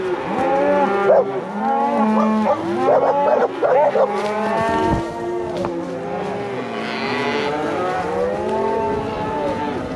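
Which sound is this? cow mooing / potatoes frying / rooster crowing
cow mooing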